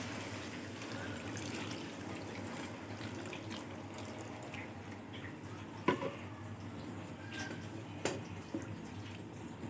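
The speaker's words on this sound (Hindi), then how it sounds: "अब इसमें पानी ऐड करते हैं।" Water poured into a cooking pot of lentils and spices for daal gosht, a steady close running splash with a couple of brief clinks of utensils on the pot.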